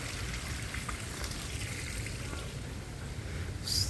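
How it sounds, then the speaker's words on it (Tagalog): Steady, rushing flow of a strong water current in a Japanese garden, a continuous broadband wash with no pauses, fairly close and moderately loud. "Ayun malakas yung tubig doon na sa Agos"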